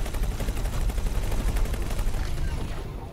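Rapid bursts of gunfire in the space game X4 Foundations, weapons firing at a station in a dense, continuous rattle that fills the whole stretch at steady loudness, with a faint voice mixed in underneath.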